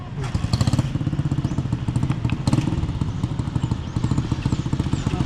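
Several motorcycles idle and putter at a rural roadside motorcycle terminal in Tupi, their close, steady rumble filling the whole stretch with faint clatter and no talk.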